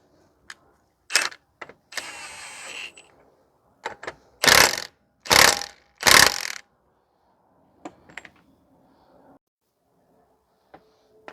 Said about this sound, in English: We're just going to run down the axle nut here a tiny bit.